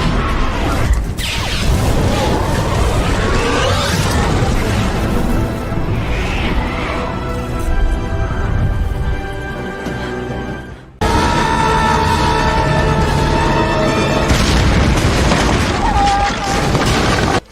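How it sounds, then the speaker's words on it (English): A movie helicopter blows up in a loud, sustained blast, with a deep roaring rumble that runs continuously, a brief cut partway through, and a second burst of booming debris and score layered under it. "The chopper is about to blow up."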